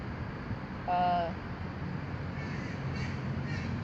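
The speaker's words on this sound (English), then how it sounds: "the young crows, juvenile corvids over here" Young crows perched on a telephone pole give a single clear caw, followed by a couple of fainter distant calls over steady outdoor background noise.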